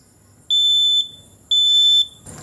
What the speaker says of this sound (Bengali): তারপর আমাদের ধোঁয়ার ভিতরে আমরা ফায়ার অ্যালার্মটা দেবো